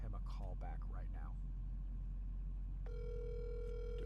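A phone line ringing while calling back a job applicant for a lawn and landscape business: a steady tone sets in partway through, following a stretch of muffled talk and low background rumble.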